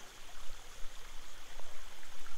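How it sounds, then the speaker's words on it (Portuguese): A small secret waterfall on a trail stream in Serra, Espírito Santo, running with little water, gives a steady close rushing and splashing with faint gurgles. "tem uma cachoeirinha secreta no meio de uma trilha"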